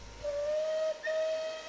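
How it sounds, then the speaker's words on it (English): Steam whistle of a Merchant Navy Class locomotive in Train Simulator, two clear sustained blasts, the first longer, with a short gap between, loud and close over a low rumble and hiss. "We'll have to hit the whistle."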